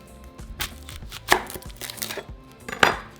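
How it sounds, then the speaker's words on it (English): A kitchen knife cuts an onion in half on a cutting board, giving several sharp, close chopping strikes with two especially loud chops, against a quiet background and no talking. "first we're going to start by cutting our onion in half"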